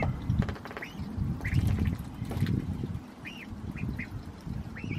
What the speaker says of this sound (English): Gotta give the ducks a bunch of water from the swimming.